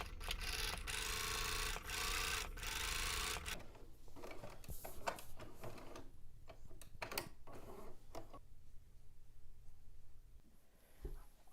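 A sewing machine top stitches a flap to encase a raw fabric edge, opening with a steady whirring run and then breaking into short bursts and ticks, close and quiet.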